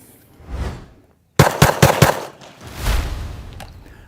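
Four rifle rounds fired rapidly in tactical training, sharp loud cracks in quick succession, bracketed by softer rustling movement before and after.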